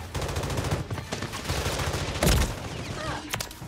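Gunfire from the video game Rainbow Six Siege rattles in dense, rapid bursts, with one louder, heavier shot standing out near the end. The shooting stays close and loud throughout.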